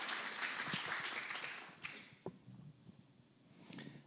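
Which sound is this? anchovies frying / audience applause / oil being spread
audience applause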